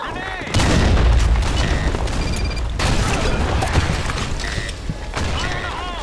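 Grenade blasts and gunfire in the shooter game Blackshot, a heavy boom followed by dense rumbling bursts and sharp shots, loud and continuous with brief game voice lines mixed in.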